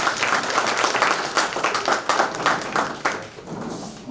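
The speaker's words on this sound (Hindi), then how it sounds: "जोरदार तालियां" Loud, dense applause from an audience at a Hindi book-launch event honouring a poet, a steady wash of many hands clapping that continues for the full stretch with slight swells.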